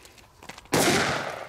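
D-class firecracker from Funke, P1 variant, goes off with a single loud sharp bang after quiet background, followed by a long ringing echo tail.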